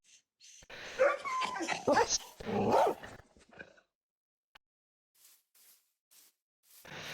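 Dogs in a Minecraft-style game bark, yip and whimper in quick overlapping bursts, loud and close at first, then fading into sparse soft yelps and a short final flurry.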